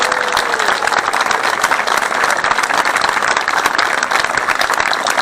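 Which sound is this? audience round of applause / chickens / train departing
audience round of applause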